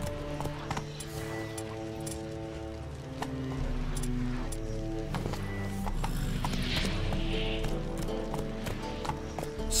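Roach, a horse in The Witcher, clip-clops steadily as it gallops, the hoofbeats rhythmic and continuous, and a whinny rises near the middle over a low ambient drone.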